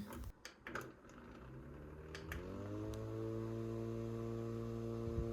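A small handheld fan with a built-in flashlight and 2000mAh power bank whirs steadily at second speed after a few clicks, its motor tone rising as it spins up, then holding a soft, even hum close by.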